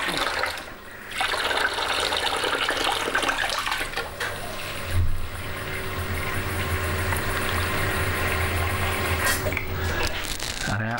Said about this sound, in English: what I do now is to get some warm water, lukewarm, not hot